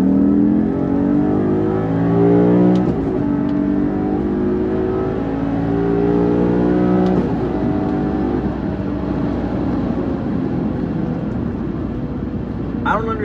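A Maserati 4200 with F1 Cambiocorsa gearbox pulls hard in second gear, its engine pitch climbing steadily as it revs, loud and close, with wind and road roar.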